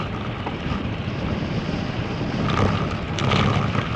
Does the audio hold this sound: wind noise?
yes